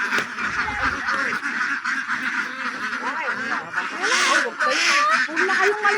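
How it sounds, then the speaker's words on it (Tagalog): A large flock of domestic ducks quacks continuously nearby, overlapping calls forming a busy, loud chorus, with a person talking over them. "At napakarami naming itik."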